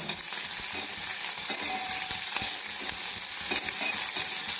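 Chopped ginger and garlic sizzling in hot oil in a pan for lemon pickle, a steady dense crackle and hiss with occasional stirring scrapes, close and continuous.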